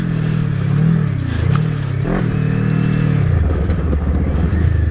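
A Kawasaki KLE500 motorcycle engine runs loud and close while being ridden, its drone rising and falling through the gears with a brief rev and shift in the middle, and no voice over it.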